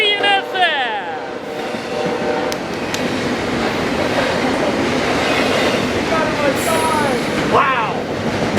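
A CN freight train passes at close range with a steady rumble, clatter and wheel squeal throughout, and bright horn-like tones sound near the start and again toward the end.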